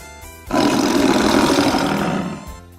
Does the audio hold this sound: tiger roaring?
yes